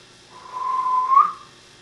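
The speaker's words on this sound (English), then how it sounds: "As soon as the guard's whistle blew," A train guard's whistle gives one steady, shrill tone of about a second, clear and close with nothing else around it.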